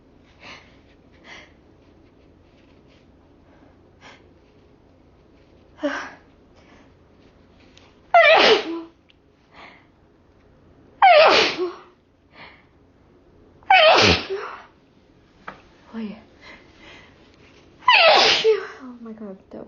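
Several loud, close sneezes burst out one after another after snorting chhinkni snuff, spaced a few seconds apart, with sniffs and breathy gasps between them.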